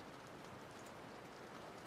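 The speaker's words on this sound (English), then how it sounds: "I'm just gonna turn down the rain ASMR because it's a little loud" Rain ambience plays faintly as a steady, soft patter of drops on a surface, continuous and even under game audio, quiet and distant-sounding.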